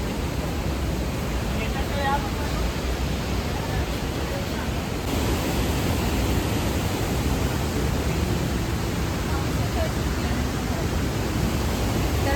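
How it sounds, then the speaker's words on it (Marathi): Steady, dense roar of rushing water from Napne waterfall in Vaibhavwadi, Maharashtra, heard up close, constant and loud throughout with no pauses. "हा नापणी धबधबा आहे"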